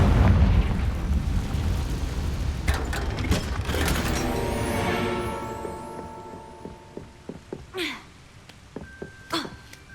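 A Confringo spell blast in a Hogwarts wizard video game bursts loudly at once, then rumbles and decays over several seconds, followed by scattered smaller pops and chimes.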